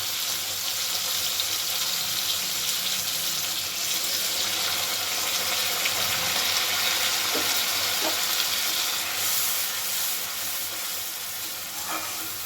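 Continuous hissing sizzle from a hot pan after a little water is added to tomato paste, with a few faint clinks of a utensil; no voices.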